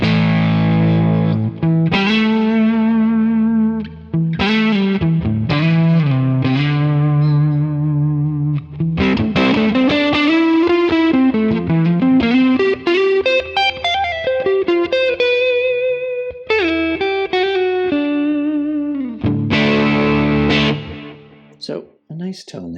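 Electric guitar through a Quad Cortex amp model with the gain at about 7 plays a loud, distorted phrase of sustained bends, chords and runs, close and alone, with brief pauses before trailing off at the end.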